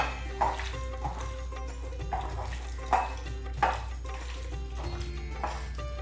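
Chicken pieces are mixed with turmeric, salt and red chili powder in a bowl, giving soft wet squelches and occasional clinks against the dish at close range, with no talking.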